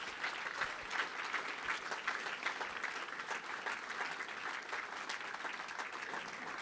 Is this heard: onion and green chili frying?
no